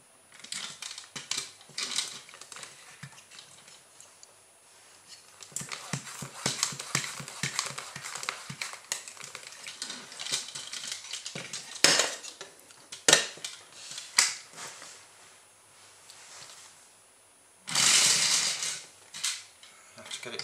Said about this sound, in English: we'll try and pump this one up first